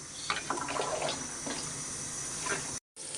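Water splashes and pours steadily into a cooking pot, with a little hot water added while preparing a taro (kochu) dish with onion and dried chilli; the flow runs continuously and close by, then cuts off briefly near the end.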